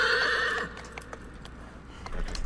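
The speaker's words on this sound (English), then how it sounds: "That's my horse." A horse in the video game Shadow of the Colossus gives a loud, clear whinny, then its hooves thud and clop more quietly. No one speaks.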